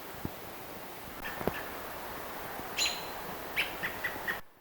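A small forest songbird gives sharp alarm calls at a nearby owl: a few short, high chirps in quick succession, fairly faint against a quiet woodland background with light rustling.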